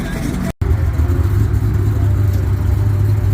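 A Ford Shelby GT500 parking at a car show gives a loud, steady, deep engine rumble close by, with a brief dropout near the start and voices in the background.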